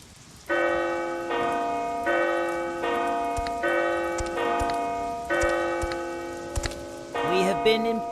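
Abbey bell rung by pulling a rope in The Abbey, struck six or seven times in a slow, steady rhythm, each toll ringing on with long overlapping resonance, fairly loud and close.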